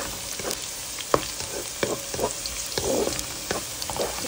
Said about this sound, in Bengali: এই যে পেঁয়াজটা তেলের ভিতরে আমি ভেজে নিচ্ছি